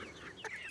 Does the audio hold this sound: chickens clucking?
yes